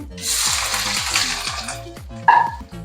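Chopped ginger hits hot oil already crackling with mustard seeds and dried red chillies for a hog plum pickle, giving a loud, steady sizzle with a sharper burst of spatter near the end.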